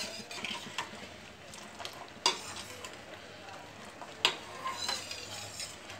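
Rice simmering in milk for caramel kheer is stirred in a pot, with soft continuous bubbling and sizzling under a steady run of scraping strokes and a couple of sharper metallic clinks of the spoon, recorded close and quiet.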